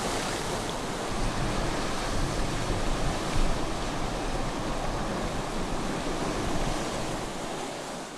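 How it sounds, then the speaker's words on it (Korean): Rough sea off the coast of Onpyeong-ri, Jeju, where women divers head out through heavy waves; a loud, dense, continuous roar of breaking surf with wind, no voices. "해녀들이 거센 파도를 헤치고 바다로 나섭니다"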